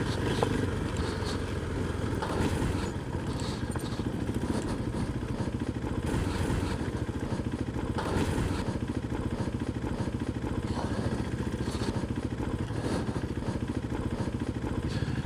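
A KTM 390 Adventure motorcycle ridden off road in second gear: a steady mid-pitched engine drone with wind and clattering from the rough ground, continuous and fairly close.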